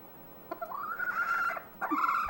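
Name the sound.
chicken clucking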